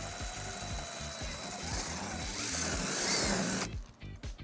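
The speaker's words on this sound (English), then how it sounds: "using a 3/16 drill bit, we're going to drill our first hole." A power drill fitted with a 3/16 bit bores a hole through the bumper of a 2020 Subaru Impreza hatchback, a steady whirring grind that runs for several seconds, rises slightly, then cuts off abruptly near the end.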